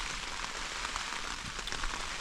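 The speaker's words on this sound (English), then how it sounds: "this rain is forecast for all night and tomorrow morning" Heavy rain pours steadily at a solo wild camp, a dense, continuous hiss of drops drumming on nearby surfaces with no voices.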